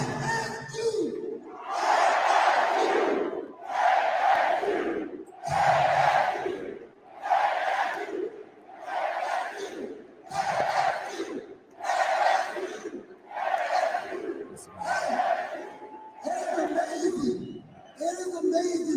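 A packed basketball arena crowd roars in repeated loud surges as the coach addresses fans, with a voice speaking between the swells of cheering.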